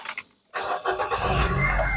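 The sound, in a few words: Nissan Grand Livina car engine starting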